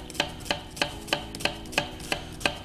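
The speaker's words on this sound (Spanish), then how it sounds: "picamos la cebolla bien picadita" A knife chops onion finely on a cutting board, nine evenly spaced sharp strikes in a steady rhythm, close and clear with a low room hum beneath.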